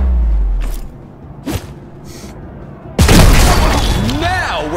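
Grenade explosions in the video game ShowGunners: a deep boom opens the clip, followed by a few softer thuds and then a sudden loud blast with crackling debris, with a voice talking alongside.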